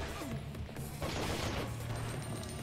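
Machine gun fire in the PS2 video game Biohazard Outbreak, a steady sustained rattle of rapid shots at moderate level with a few crashing impacts, no talk over it.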